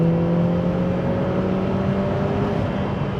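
A Lotus Emira 2.0 First Edition with its AMG four-cylinder engine pulls hard, a steady loud engine drone with a rising tone heard from inside the car, continuous with no talk.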